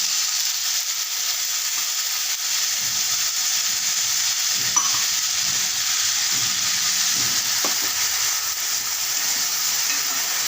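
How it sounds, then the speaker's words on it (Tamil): Ground onion paste sautéing in a pan with salt and other ground ingredients for green idli, a loud, steady, close frying hiss that runs the whole time, with a couple of faint utensil clicks. "வெங்காயம் அரைச்சி விழுதெல்லாம் நல்லா வதங்கிடுச்சு"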